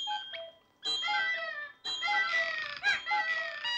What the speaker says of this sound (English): The sounds of the clocks ticking and when they go off, all those little delightful, charming chimes and melodies within all the different clocks.